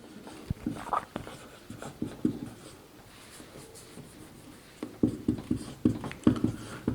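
Pen writing on paper during a class 7 maths lesson, soft scratchy strokes and taps coming in bursts, close and faint, with a quieter pause in the middle.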